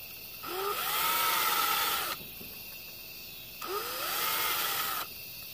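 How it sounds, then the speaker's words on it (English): A power drill whines through two bursts of drilling into wood for pocket holes, each about a second and a half long, with its pitch rising as it spins up, separated by a short pause. "so we're just going to drill down here."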